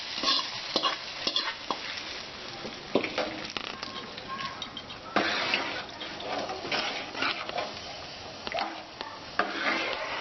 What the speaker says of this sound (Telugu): ప్యాన్లోనే వేయించుకున్న పోపుని మరుగుతున్న సాంబార్లో వేసుకున్నాం.